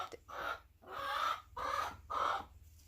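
Backyard chickens clucking in four close, loud, evenly spaced bursts, with no talk over them.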